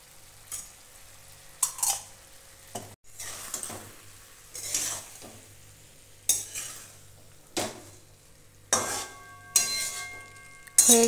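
Potato and brinjal curry stirred in a pan with raw mustard oil, a spoon scraping and clinking at intervals over a soft sizzle; repeated short bursts, close and moderately loud, no talking.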